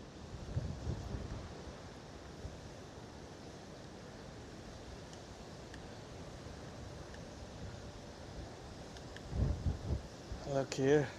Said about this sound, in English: Yeah, we have nice waves here now.